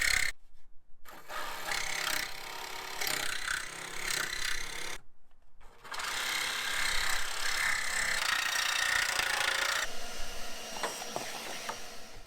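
Wood being trimmed by hand for a trim ring in a Sprinter van build, with steady rasping and sawing strokes running continuously, broken by two short silent pauses.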